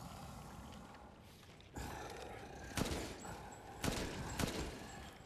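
Gunfire in the survival-horror game Resident Evil Village: three or four sharp, loud shots at irregular intervals ring out over a dense, rumbling in-game background.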